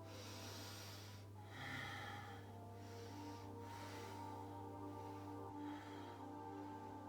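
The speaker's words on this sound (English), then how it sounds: "You can inhale as you come up, exhale as you release." Slow, steady yoga breathing, with soft inhales and exhales close to the ear that rise and fall in a gentle rhythm over a low, constant room hum.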